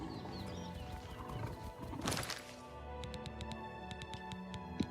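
A horse neighs loudly over a busy game soundscape in Oblivion Remastered, followed by a run of crisp clip-clopping hoofbeats.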